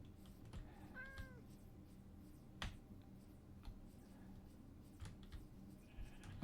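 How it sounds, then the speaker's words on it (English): A Minecraft cat gives one clear meow, faint and close, amid quiet game ambience with scattered soft clicks and taps. "We're gonna get the cat."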